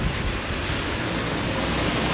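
Strong wind blows outdoors in New Zealand, a constant loud roaring rush buffeting the microphone for the whole stretch with no pauses.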